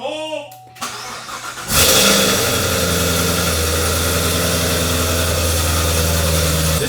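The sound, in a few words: car engine running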